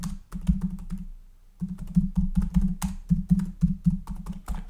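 Typing on a computer keyboard while writing in the WordStar text editor on a CP/M machine: rapid, close, clattering keystrokes with one brief pause, heard alone.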